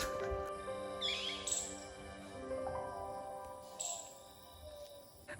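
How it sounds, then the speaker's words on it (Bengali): Several different birds calling in Parmadan forest near Bongaon, scattered chirps and whistled calls over a quiet background, some near and some faint. "চুপচাপ এক জায়গায় কোথাও দাঁড়িয়ে থাকলে বা বসে থাকলে যে পাখির ডাকগুলো, কত রকমের পাখির ডাক"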